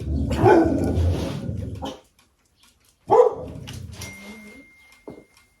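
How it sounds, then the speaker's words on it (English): A pet dog barks in a home, two separate bursts of close, loud barking with a short quiet gap between them, followed by a small faint yelp. "I've just told her off for barking at absolutely nothing"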